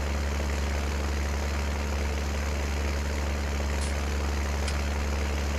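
Farm tractor engine running with a steady low rumbling drone, loud and close throughout, with a couple of brief faint clicks.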